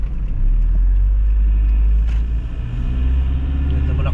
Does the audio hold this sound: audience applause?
no